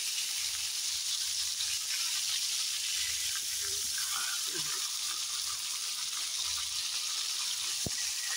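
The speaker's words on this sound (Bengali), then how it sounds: "এখন হালকা একটু ভেজে নেবো" Fish frying in hot oil in a pan, a steady soft sizzle and hiss running throughout at moderate level, with a brief faint click near the end and no talking.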